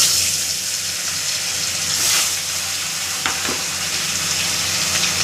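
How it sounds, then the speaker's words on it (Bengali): Katla fish sizzles loudly and continuously in hot oil, a dense frying hiss with a couple of brief crackles and splashes as the pieces settle; no speech. "তেল গরম হয়ে গেছে, মাছটা দিয়ে দিচ্ছি।"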